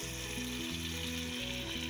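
Mixed vegetables sizzling in a pan as spices go in, a steady close hiss running alone beneath a low, pulsing mechanical hum.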